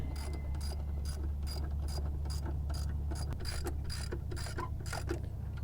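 Belt tension is adjusted on the alternator of a 2000 Mitsubishi Fuso truck, with rapid repeated metallic ratcheting clicks in bursts over a steady low engine-bay hum.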